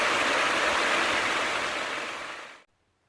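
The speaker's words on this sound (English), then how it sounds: "I hope you can hear me over this water because it's a bit loud." Loud, steady rush of flowing water close by, near a parked van on the road, a dense continuous roar that cuts off abruptly near the end.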